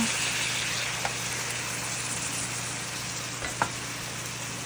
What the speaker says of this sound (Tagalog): Nagisa natin yung tuna. Mix lang.